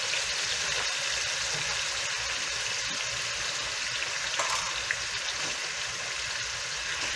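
Jalapenos and minced garlic fry in a pan with a steady, dense sizzle that holds evenly throughout, with a few faint clicks from the pan and no talking.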